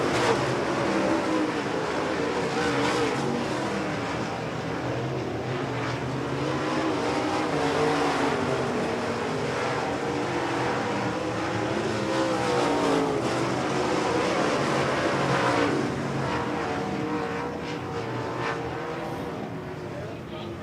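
USRA Modified race cars roar down the front straightaway of a speedway past the checkered flag, a loud continuous engine drone with a shifting pitch as the field passes, under faint announcer talk.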